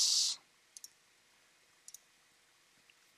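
Two quick double-clicks of a computer mouse sound close and crisp against near silence, followed by a fainter single click after a brief hiss at the start.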